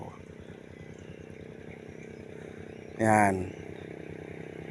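A motorcycle climbs a steep uphill road with a low, steady engine drone running throughout at modest volume. A person speaks briefly partway through.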